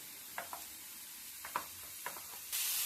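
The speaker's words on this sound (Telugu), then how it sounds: "దీన్ని బాగా ఫ్రై చేసుకోవాలి." Broccoli and onions frying in oil in a pan, giving a faint soft sizzle with a few light stirring taps, then a brighter, steadier hiss toward the end.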